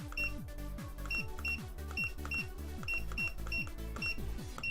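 Barcode scanner beeping in a repeating pattern, evenly spaced electronic beeps over a steady rhythmic backing of falling tones, clear and regular throughout.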